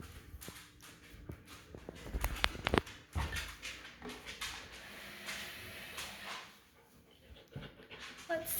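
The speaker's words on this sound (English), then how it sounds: "And the dogs are sure to follow." Dogs panting and whimpering in a quiet indoor room, with soft clicks and shuffling steps around them, a few brief louder bursts in the middle, and a voice speaking softly nearby.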